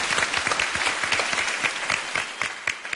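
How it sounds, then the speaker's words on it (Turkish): A studio audience on a Turkish game show claps enthusiastically, close and loud with sharp individual claps, tapering slightly toward the end. "Moral alkışı istiyorsanız alkışlar gelsin."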